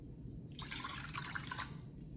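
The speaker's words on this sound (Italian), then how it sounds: "Quindi come prima cosa adesso andiamo a mettere l'acqua" Cold water poured from a tap or jug into the bowl of a dough mixer for Roman-style pan pizza, a brief splashing gush of about a second, faint and close, set against low background hum.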